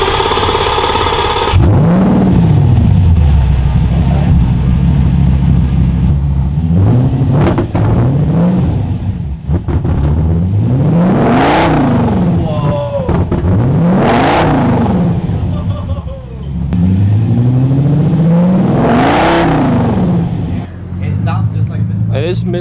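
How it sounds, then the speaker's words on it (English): A cheap Audi V10 with straight pipes and a misfire revs hard in repeated rising and falling sweeps, loud and close, with a rough, crackling idle between pulls and people talking over it. "We got the Audi here now, so we're gonna have some straight pipe action."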